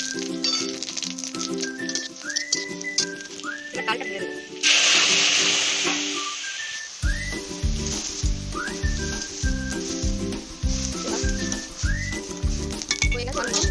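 Whole spices, bay leaves and dried red chillies sizzle and spit in hot mustard oil in a home kitchen, a loud crackling fry with metal clinks and a bright burst of sizzling midway.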